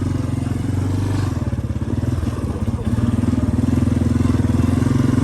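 The engine of a 1993 Yamaha Big Bear ATV runs with a steady, throbbing low rumble close by, with a brief clatter as it shifts gears midway before settling back into a continuous drone.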